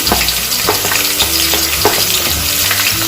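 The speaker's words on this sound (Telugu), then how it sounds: "కరివేపాకు వేసుకొని ఫ్రై చేసుకోవాలి." Chopped onions and green chilies sizzling loudly in hot oil in a pan, a steady close frying hiss with occasional stirring scrapes and no voices.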